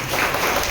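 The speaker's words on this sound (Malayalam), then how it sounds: "ഒരു വലിയ കൈയടി കൊടുക്കാം." A brief burst of audience applause at a stage program honouring a lyricist, a dense, steady patter of many hands heard close and fairly loud.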